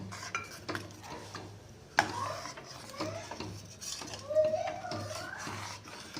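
Pea, onion and tomato gravy being stirred with added water in a pressure cooker, with soft scraping and clinking of a spoon against the metal pot, fairly quiet, with faint voices in the background.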